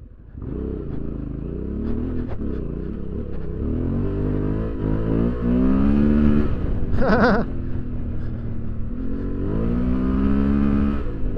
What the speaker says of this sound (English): Let's do a little bit of skidding.